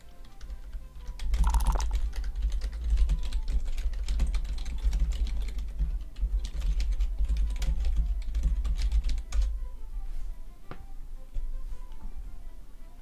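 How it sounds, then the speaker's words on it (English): Loud computer keyboard typing, a close, busy run of rapid key clicks that keeps going for several seconds before thinning to a few scattered taps near the end. "Sorry if this keyboard is deafening."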